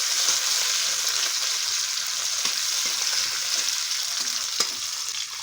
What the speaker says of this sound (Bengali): এবার আমরা টমেটোগুলোকে দিয়ে দিলাম, বিভিন্ন টমেটোগুলো দিয়ে দিলাম।